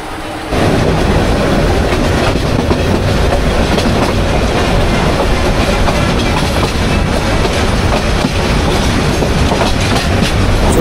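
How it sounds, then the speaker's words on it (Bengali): Inside a moving Parabat Express chair coach, a loud constant rumble with rhythmic clickety-clack of wheels over rail joints, continuous throughout with no voices. "এটা হচ্ছে পারাবত এক্সপ্রেস বগি"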